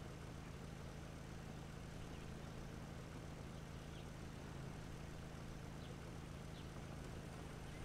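A helicopter approaches in the video game HumanitZ, heard as a steady, low droning rotor and engine hum that stays constant and fairly faint throughout, with no voices.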